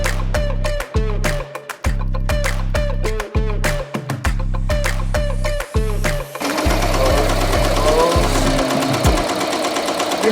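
An embroidery machine stitching a hat runs loud and close with a fast, even mechanical chatter and rhythmic thumping that pauses briefly several times, then gives way to a denser, steadier whir in the last few seconds.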